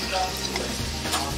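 Bacon sizzles and fries in a little oil in a pot, a loud, close, continuous crackling hiss with a brief stirring scrape near the end.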